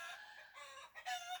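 A backyard chicken near its coop gives a short run of clucks and squawks, close and clear against a quiet background.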